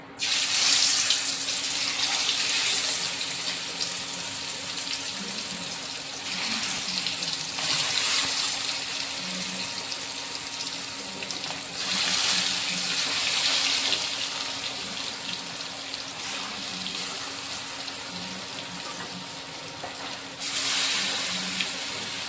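Fish for a home-style fry sizzles steadily in well-heated oil, a continuous hissing crackle with louder bursts at intervals and no talk.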